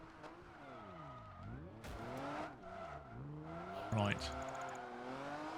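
A TVR sports car in Project Gotham Racing 4 on a Gotham street circuit, its engine revving and rising and falling through gear changes, with bursts of tire squeal and someone talking over it.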